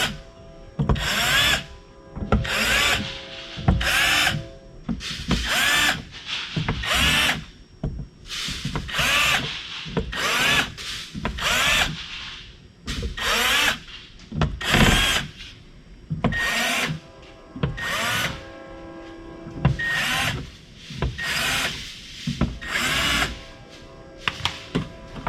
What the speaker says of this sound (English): take your 1/8 inch drill bit and just drill all of these out